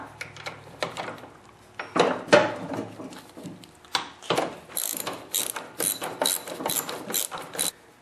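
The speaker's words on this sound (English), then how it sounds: "You have to remove that nut over here and hold the wrench while you do that." A hand wrench ratchets a nut off a Craftsman snowblower during a drive ring repair, giving bursts of quick, close clicking with short pauses between them and no talk.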